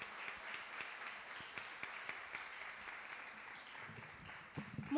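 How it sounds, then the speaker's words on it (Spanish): A small audience in a municipal council chamber applauds an invited doctor, a quiet, fairly distant patter of clapping hands that fades slightly before a brief closer noise at the end. "Un aplauso para la doctora Adi Patricia Carrera Hernández"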